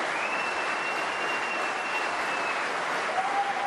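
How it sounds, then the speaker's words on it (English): A crowd applauds and cheers at a snooker venue during the 2024 World Snooker Championship last-16 match between Stuart Bingham and Jack Lisowski, a dense sustained wash of clapping with a faint thin whistle-like tone running through it. "all the cheering on the other side"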